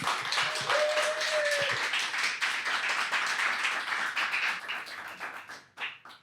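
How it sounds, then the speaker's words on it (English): A concert audience claps for a music presentation, with moderately loud applause that thins out and fades toward the end. "Please, a warm applause for DoYeon and her presentation."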